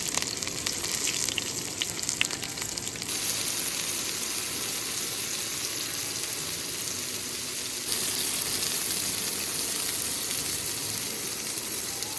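Asparagus frying in a pan over a campfire of wet wood in icy Cascade mountain conditions, a steady close sizzle that runs the whole time and swells louder near the end.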